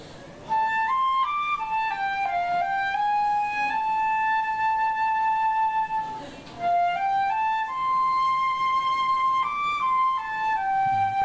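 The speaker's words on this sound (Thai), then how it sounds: "เรามาฟังเสียงฟลุตดูสิครับ" Solo flute, a metal woodwind, playing a slow, breathy melody with long sustained notes and a brief pause midway, clear and close.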